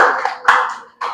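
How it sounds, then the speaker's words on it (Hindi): Students in a maths class clap for themselves in short bursts, three quick rounds of loud, close hand claps. "ताली बजाइए अपने लिए आप"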